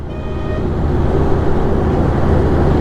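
Heavy morning road traffic with trucks, heard from a motorcycle ride on a Hero Xtreme 160R 4V: a steady, loud broadband roar of passing vehicles and engines with no talk.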